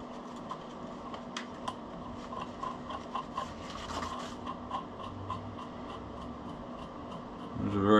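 A hand file or deburring tool rasps against a metal T-nut in short repeated strokes, a soft scraping rhythm with light taps and clicks in a quiet workshop.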